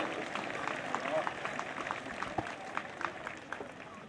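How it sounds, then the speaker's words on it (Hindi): Scattered clapping from a crowd at a police passing-out parade, a soft patter of hands with a few sharper claps, a steady continuous wash rather than a loud ovation. "तालियां बजाएं इनके लिए।"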